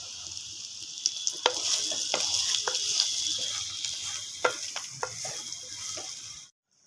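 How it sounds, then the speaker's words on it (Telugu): Bottle gourd pieces fry in a pan with curry leaves, ginger and green chili paste, giving a steady close sizzle broken by sharp utensil clicks and scrapes, then cutting off abruptly just before the end. "పొట్లకాయ ముక్కలు అలా స్టవ్ మీద ఉడుకుతున్నాయి"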